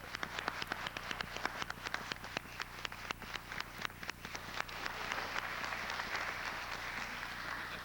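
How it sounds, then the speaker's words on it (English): An outdoor crowd at a 1999 swine festival parade applauds a new incoming administrator, scattered sharp claps growing into a fuller, steadier ovation, faint and somewhat distant. "please join me in a big hand of applause for our new and incoming administrator"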